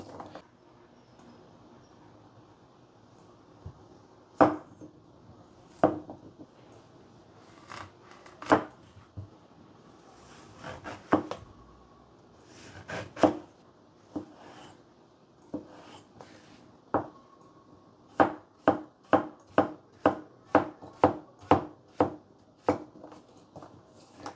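A Tsukasa Hinoura River Jump knife chops zucchini on a board: a few spaced, crisp chops at first, then a quick steady run of about a dozen cuts near the end, close and clear with no talking.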